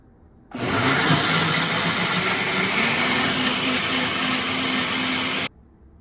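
Chiles, chiles de árbol and chicken flavor whirring in a blender for birria sauce, a loud steady motor roar that starts abruptly, runs about five seconds, then cuts off.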